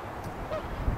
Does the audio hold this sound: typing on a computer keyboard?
no